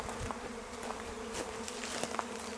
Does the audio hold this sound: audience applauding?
no